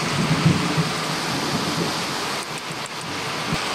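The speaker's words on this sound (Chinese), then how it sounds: "好大的雷啊，吓死个人了" Heavy rain hisses steadily over a rice-paddy crayfish pond during a thunderstorm, a dense, continuous wash of sound with faint low rumbles underneath and no voices.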